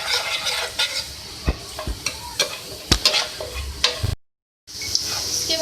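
Vegetables with half a teaspoon of turmeric powder fry and get stirred in a pan, a steady sizzle broken by sharp scraping strokes of the spoon at irregular intervals, with a brief silent gap near the end.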